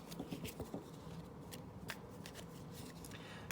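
Card deck for the board game Enemy Action: Ardennes being shuffled on a table, soft rapid riffles and slaps at close range, quiet and unbroken, without any speech.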